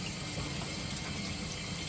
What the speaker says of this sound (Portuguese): agora vamos colocar a água aqui por aí, tá vendo? Já ferveu.